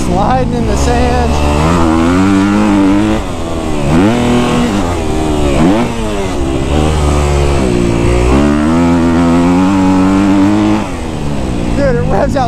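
A Kawasaki KX250F dirt bike engine revs hard and close, its pitch repeatedly climbing and dropping through gear changes while riding in sand, loud and continuous throughout.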